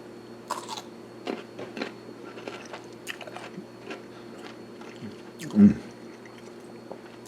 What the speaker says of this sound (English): I want you to hear the crunch